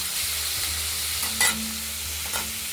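Green chillies frying in tempering oil, a continuous close sizzle with a couple of brief louder spatters and stirring scrapes.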